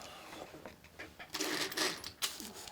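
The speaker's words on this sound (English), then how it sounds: "Put this collet back in here." Small metal clicks and rattles as a collet is fitted back into a DEKO rotary tool, close up and handled in short bursts.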